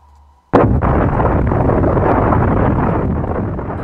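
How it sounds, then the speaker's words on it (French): Huge explosion standing for the Big Bang: a sudden loud blast bursts out of near silence, then a long roaring rumble that slowly fades. "Une énorme explosion."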